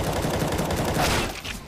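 Gunfire rattles in the shooting game Free Fire, dense and close, filling the short moment with a steady harsh burst that fades slightly at the end.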